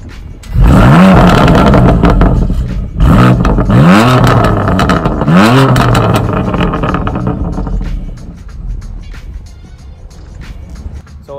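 The S55 engine of a 401-horsepower BMW M2 Competition barks through its exhaust in three loud, close revs, each climbing and falling away, then settles into a quieter burbling idle that gradually fades.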